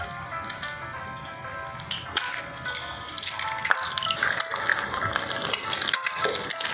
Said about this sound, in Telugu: ఇంకో స్టవ్ మీద మనం ప్యాన్ పెట్టుకొని 2 స్పూన్స్ ఆయిల్ వేసుకొని ఎగ్స్ వేసుకుందాం.